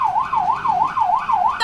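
A fire truck siren wails in a steady rising-and-falling cycle, loud and close, repeating about five times before a brief harsher tone cuts in at the end.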